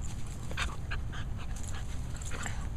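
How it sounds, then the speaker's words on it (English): Two young dogs wrestle, a puppy and an eight-month-old, with quick panting breaths and small yips and whimpers close by in an indoor room, fairly quiet and steady. "Puppy wrestling."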